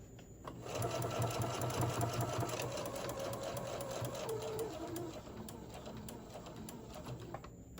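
A sewing machine stitches a seam on a fabric tote bag, a steady, close, rapid mechanical whir that runs for several seconds with faint rattling, then slows and stops near the end.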